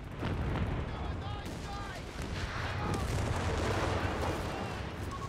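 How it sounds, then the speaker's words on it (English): Artillery barrage explosions in the real-time strategy game Company of Heroes 3, a steady roar of booms and gunfire rumbling continuously through the whole stretch, with in-game voices talking over the battle. "Artillery barrage on the way."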